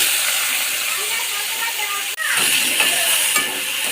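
Potatoes go into hot oil in a wok, cooking for a Bengali kadai posto dish, giving a loud, steady hiss that breaks off briefly midway and then resumes just as strongly.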